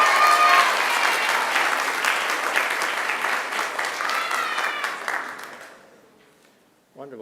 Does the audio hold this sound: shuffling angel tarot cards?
no